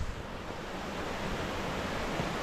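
Ravana Ella waterfall in Ella roars as a steady, broadband wash of falling water, constant and fairly distant, with no voices.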